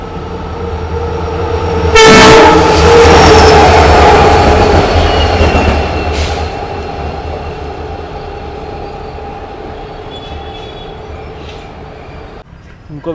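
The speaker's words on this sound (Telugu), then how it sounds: "ఇప్పుడైతే ఎదురుగా ఎవడో ఈఎండి లోకో వస్తుంది అనుకుంటా, ఖాళీ లోకో" An empty EMD diesel locomotive passing close at a station, its horn blaring loudly as it arrives, then a long rumbling roar of the engine and wheels that gradually fades, with a brief squeal near the end.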